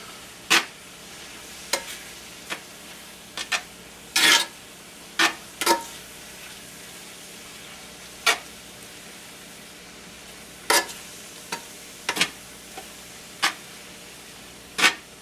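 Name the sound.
stirring freeze-dried lo mein in a pan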